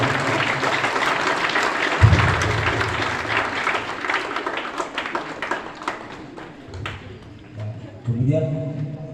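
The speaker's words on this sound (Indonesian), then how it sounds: "Mohon berikan aplaus kepada yang mengambil bagian." Applause from a crowd of students at a Monday school flag ceremony in Indonesia, steady clapping through the first half and fading toward the end, with a voice speaking over it.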